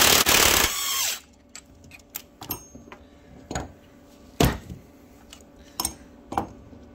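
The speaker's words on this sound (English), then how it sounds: "is busting this nut off, and then another one just like it up top." A wrench busts loose a nut on the lowering link of a Suzuki SV650 motorcycle, beginning with a loud harsh burst, then a series of sharp metallic clinks and taps at irregular intervals, close by.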